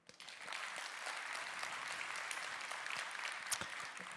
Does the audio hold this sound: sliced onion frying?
no